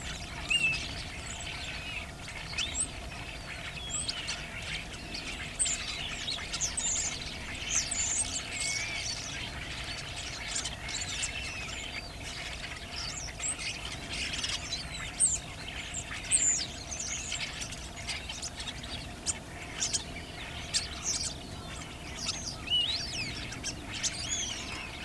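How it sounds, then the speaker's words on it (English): Flock of starlings chirping on wires, a dense, continuous chatter of many small tweets and squeaks at moderate distance, steady throughout with a faint low hum beneath. "It looks nice, sounds good, all the little chirping."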